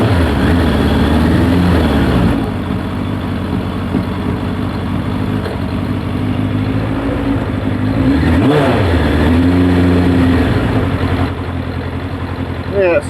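A Suzuki Bandit motorcycle engine, recently recovered from a heavy oil leak, is blipped through several revs that rise and fall over a ragged, uneven idle, loud and close throughout.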